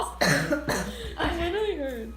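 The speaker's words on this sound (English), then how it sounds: "I need to stop coughing." A person coughs hard several times in short bursts, up close, with throaty vocal sounds between the coughs while microwaving a beauty blender sponge.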